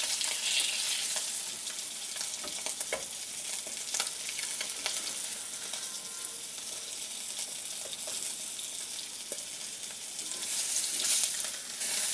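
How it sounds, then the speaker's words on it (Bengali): Pieces of tilapia fish fry in hot oil for a Bengali dopiaza, giving a steady, close sizzle with occasional crackles and light clicks, and no voices. "এক সাইড খুব ভালো করে ভাজার পরে আর এক সাইড এগুলোকে উল্টিয়ে দেব"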